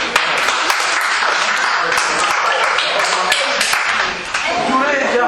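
A crowd at a youth trophy presentation applauds the young winners, with close, sharp individual claps over a steady background of clapping that dips briefly near the end before picking up again.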